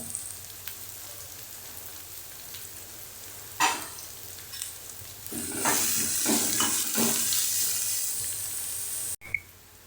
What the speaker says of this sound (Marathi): कांदा टाकते कांदा चांगला लालसर भाजून घ्यायचा